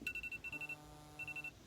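A timer alarm goes off in bursts of rapid electronic beeps, two clusters with a short gap between, fairly quiet indoors with no talking.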